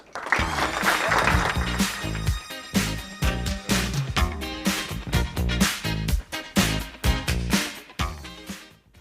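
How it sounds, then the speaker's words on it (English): An audience at a corporate tech event applauds as a speaker is welcomed to the stage, loud sustained clapping over strong rhythmic walk-on music with a beat. "Please join me with a round of applause to welcome Adam to the stage."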